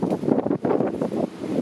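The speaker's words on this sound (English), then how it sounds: "all of a sudden the wind is picking up" Strong gusty wind blowing outdoors among vines and plants, buffeting the microphone in loud, close, uneven rushes with a brief lull midway.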